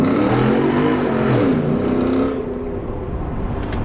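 A car engine fitted with a cold air intake revs up loudly and holds a high roar, then settles back to a lower drone, heard up close with no talking.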